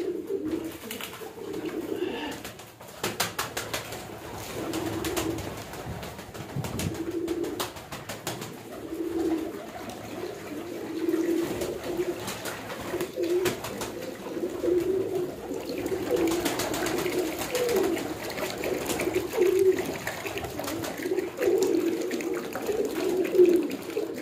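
Pigeons coo steadily in a breeder set-up, a continuous layered chorus of soft low calls from several birds close by, with faint water splashing and occasional clatter in the background.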